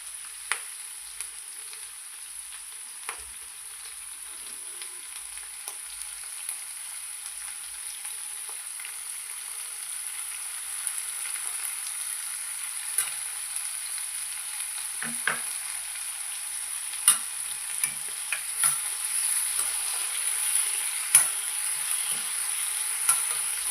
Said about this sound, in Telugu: ఇలా కొంచెం సేపు కుక్ చేసుకోవాలి ఉల్లిపాయలు.